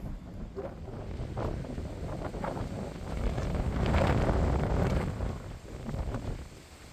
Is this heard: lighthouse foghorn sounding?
no